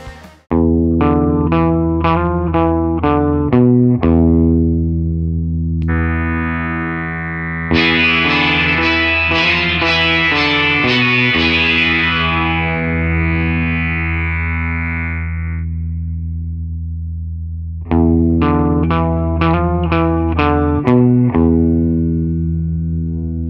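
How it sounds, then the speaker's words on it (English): Les Paul electric guitar through an Electro-Harmonix Ravish Sitar pedal and a Twin Reverb amp, with a buzzy, droning sitar-like effect, playing plucked note runs and sustained resonant chords, loud and alone. "Today I'm using a Les Paul through a twin reverb."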